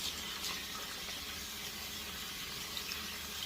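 A faucet runs steadily as shaving lather is rinsed off in a sink or tub, a soft continuous hiss and splash with no speech.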